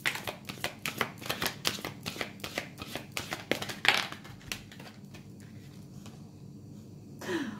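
Tarot cards shuffled by hand at close range, a rapid run of crisp riffling flicks for about four seconds that then softens into quieter sliding and a final rustle as one last card is drawn.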